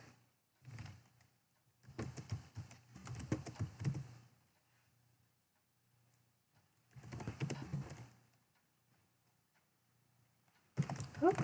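Bursts of computer keyboard typing as an email address is entered at a sign-in screen, coming in a few separate flurries of clicking keys with quiet gaps between, fairly close and moderately loud, with no talk.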